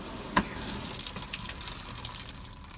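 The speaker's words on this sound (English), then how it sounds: "You got your shower." Water runs steadily from a small RV shower in a 2016 Coachmen Freedom Express Liberty Edition travel trailer, a close, continuous hiss with one brief knock near the start and no talking.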